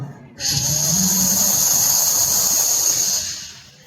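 A voice makes a steady, sustained hissing sound, imitating a fountain firework, lasting about three seconds before trailing off.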